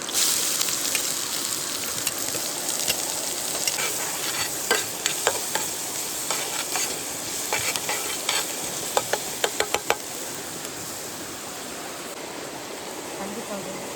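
Onion and green chillies sizzle and fry in a pan at a riverside night cookout, with a steady hiss broken by a run of sharp scraping clicks from stirring.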